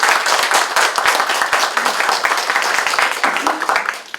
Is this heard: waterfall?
no